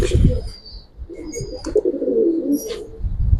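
Giribaz pigeons, bagha and silver-necked birds, coo in low throaty rolls close by, with brief chirps and a faint flutter mixed in, while someone speaks softly nearby.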